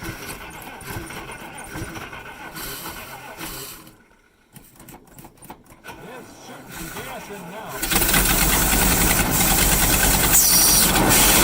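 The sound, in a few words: old truck engine cranking and starting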